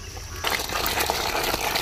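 Liquid is poured into a cooking pot over an outdoor village fire, a sudden gushing splash that starts abruptly and keeps running steadily.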